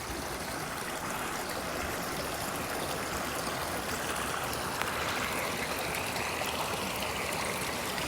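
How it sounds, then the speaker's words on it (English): Water of a partly frozen brook runs beneath the ice in a steady, broad rushing murmur that holds even and unbroken throughout, with no voices. "The water's flowing under the ice."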